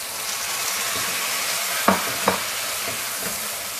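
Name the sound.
tomatoes added to softened onions in a pan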